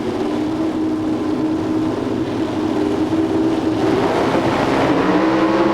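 Dragsters at Bandimere Speedway in 1994, engines held at high RPM on the line before launch, a loud, steady roar that lifts in pitch toward the end as the cars pull away.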